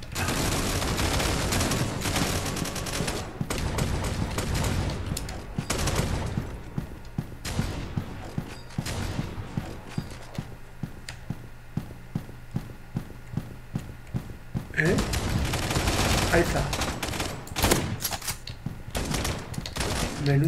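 Repeated loud shotgun blasts in the video game Retro Combat boom in bursts with quieter stretches between, punchy and close, alongside clattering effects.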